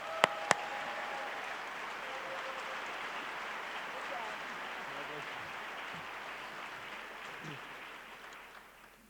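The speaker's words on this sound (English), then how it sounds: "give her a very warm round of applause" A large conference audience gives a keynote a warm round of applause, a broad, steady wash of clapping from a big room that slowly tapers off at the end.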